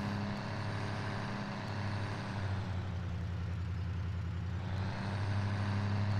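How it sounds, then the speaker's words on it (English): A GMC truck engine in Farming Simulator 17 drones with a steady low rumble, its pitch sagging slightly midway and then rising again, continuous and fairly loud with no talking. "Wow, loud truck."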